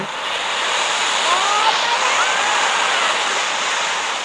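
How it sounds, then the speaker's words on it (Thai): Tsunami waves in a Roblox game roar as a broad, continuous rushing wash of water, loud and steady throughout with no pauses. "ข้างนอกเสียงสึนามิเยอะมากเลย"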